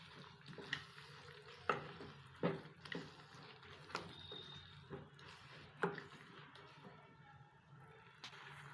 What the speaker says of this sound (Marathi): आता या सर्व याला आपण फ्राय करूयात